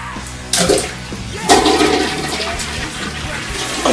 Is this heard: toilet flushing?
yes